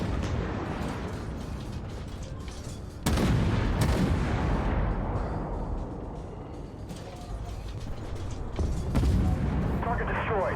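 Tank cannon fire in the video game Armored Warfare: a sharp heavy blast at about three seconds and another near nine, with rumbling mechanical creaks and engine noise between, under intermittent talk.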